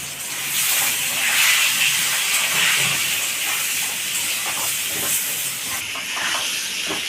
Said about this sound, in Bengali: আলুগুলোর মধ্যে একটু হলুদ আর লবণ দিয়ে আমি হালকা লাল করে ভেজে নেব।